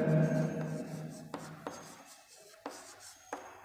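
Pen or chalk writing out a DC motor problem, a rubbing scrawl at first, then sparse sharp taps and short scratches as strokes and dots are made, close and quiet with no talk.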